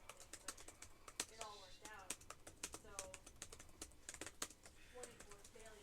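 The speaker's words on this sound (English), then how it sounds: "I'm just gonna type out how it's used in" Rapid typing on a computer keyboard while setting up Linux on a Raspberry Pi 5, with steady dense clicks heard close under a man's quiet speech.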